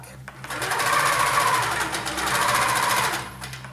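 A sewing machine stitches quilt sashing guided along a quarter-inch ruler, running in two steady fast bursts with a short pause between them, close and loud.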